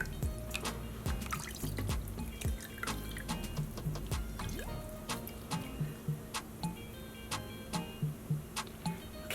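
Water drips steadily from freshly grated potatoes being squeezed by hand over a bowl in a home kitchen, a run of small, close, regular drops like a ticking clock, heard alone without talk.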